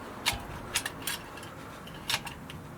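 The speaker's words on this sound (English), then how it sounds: "I push the piston right back." A screwdriver forces the brake caliper piston back on a 2016 Vauxhall Insignia front brake, giving a few sharp metallic clicks and ratcheting scrapes, close and fairly quiet, with no talking.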